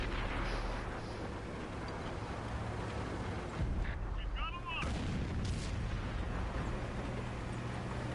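Gunshots from a PS4 shooter video game sound as muffled, distant booms under a steady game background while someone talks.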